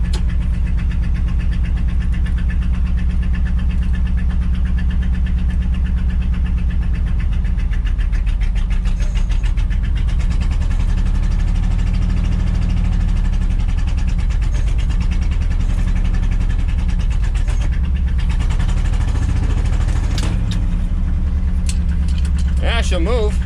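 A 1975 Ford F750 pipeline truck rumbles loudly as it pulls away in first gear, a steady low diesel drone with shifting engine tones, close up and continuous throughout.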